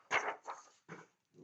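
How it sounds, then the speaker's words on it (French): A dog yaps indoors in three quick, sharp bursts close to the listener, followed by the start of a fourth. "il m'inquiète, ce chien, à japper comme ça en permanence"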